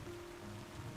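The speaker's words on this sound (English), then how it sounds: "The noise of the endless rain jolt you awake from your shallow sleep." Steady, faint rain from a video game falls as a continuous soft hiss with a low rumble beneath, unbroken and even throughout.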